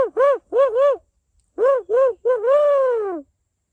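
A person imitates an owl in a loud, close voice, giving two short hoots, a pause, then two more hoots and one long drawn-out call that falls away.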